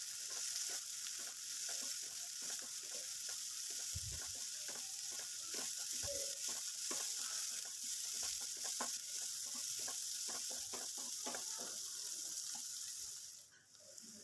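Chopped onion sautés in hot oil with crackled mustard seeds and curry leaves, a continuous close sizzle broken by frequent light stirring clicks and scrapes, no talk.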